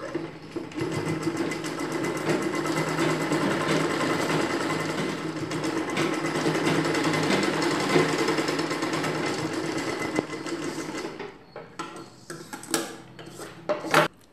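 A sewing machine stitches a zip into a chudidar dress in a fast, loud, continuous mechanical whir for about ten seconds, then stops into a few scattered clicks and handling knocks.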